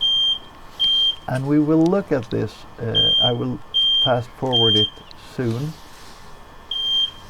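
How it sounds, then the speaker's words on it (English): A carbon monoxide detector chirps in short, repeated high-pitched beeps while someone talks over it, the beeping continuing in the gaps between his words. "You can hear the carbon monoxide detector going off."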